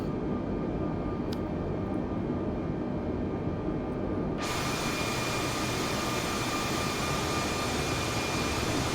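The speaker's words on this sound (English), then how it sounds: "Now we are leveling the aircraft to maintain the parallel nature to the runway" Airplane cruising level alongside a runway after takeoff, a loud steady engine roar that fills the whole stretch and grows brighter and more hissing partway through, with no talking.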